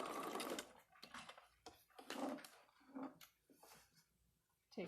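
A sewing machine stitches fabric in short, stop-start bursts, its quiet close whirring pausing and restarting several times over a few seconds, with no talk.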